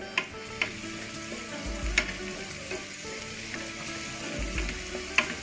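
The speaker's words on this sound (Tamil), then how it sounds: "உப்பு சேர்த்து நல்லா வதக்கி விட்டுக்கோங்க" Onions sautéing with salt and three green chillies in a pan for a home-style Tamil chicken curry, a steady close sizzle broken by scraping stirs and light taps of a spatula at irregular intervals, with no talking.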